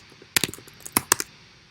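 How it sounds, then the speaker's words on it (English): A few quick bursts of keystrokes sound on a Mac computer keyboard as a command is typed, crisp and close, with short pauses between the clusters of clicks. "I can type Jupyter Notebook"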